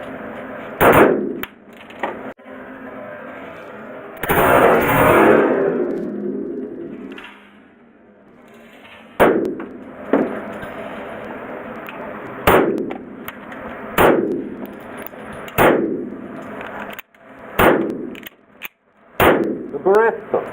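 Sharp, loud single gunshot-like bangs, widely and irregularly spaced, ring out with metallic echo, one longer noisy burst and a fading tail after several of them; identified as AK-47 rifle fire.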